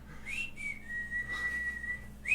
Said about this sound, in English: I whistle because it's awkward.